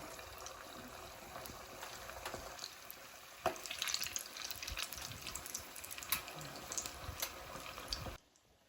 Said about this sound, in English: And then let's try to fry the koftas